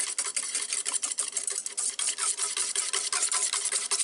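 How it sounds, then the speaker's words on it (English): Egg yolks whisked briskly in a bowl, a rapid rhythmic scraping and clicking that repeats steadily and close up with no talking. "first we're going to beat the egg yolks"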